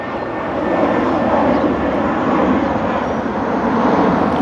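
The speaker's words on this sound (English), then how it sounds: "another big old plane taking off" A Spirit Airlines passenger jet taking off gives a loud, sustained engine roar that holds steady and grows slightly throughout, with no talking.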